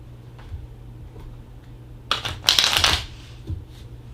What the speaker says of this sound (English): She does not like the shuffling sounds